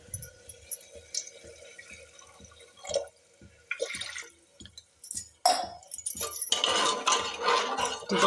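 Water poured into a cooking pot for a potato and brinjal curry, with sparse drips and clinks at first, then a louder splashing pour that runs on toward the end.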